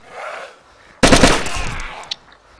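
Gunfire in the video game DayZ: a sudden burst of sharp, rasping shots cuts in after a quieter stretch, then trails off with a smaller crack near the end.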